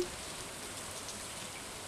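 Rain in the video game Stardew Valley, a steady, soft, even patter of drops falling throughout, faint and continuous with no voices over it.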